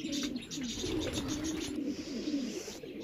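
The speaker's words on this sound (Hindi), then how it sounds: "ये इनका ग्रीजर कबूतर है जी।" A grizzle pigeon coos repeatedly in low, rolling bursts, close and steady, with faint chirps in the background.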